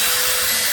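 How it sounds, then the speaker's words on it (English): A drill bores a hole through a pallet wood cabinet door for a handle inside a school bus conversion, giving a brief, steady, close whine with a gritty bite into the wood. "drilling a hole."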